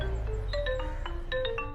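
A phone rings in a home with a repeating electronic tone, a short melodic trill sounding twice at a steady level over a low background hum, with no voices.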